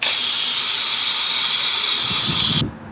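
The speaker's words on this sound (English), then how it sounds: "Now I'm going to hit the rest with the power setting on my hose." A garden hose on its power spray setting blasts water steadily and loudly while rinsing a car and a tripod, a continuous hiss that cuts off abruptly near the end.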